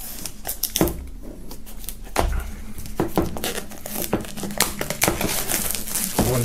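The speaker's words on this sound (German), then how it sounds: "Wir werden mal die Folie abnehmen und uns das Ganze dann im Detail ansehen." Plastic shrink wrap is cut and peeled off a board game box, close-up crinkling and tearing with sharp crackles and rustles throughout.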